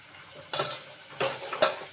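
Onion pieces softened in a pan are stirred, giving a low sizzle with a few sharp scrapes and clinks of the spoon, close and brief, with no voice.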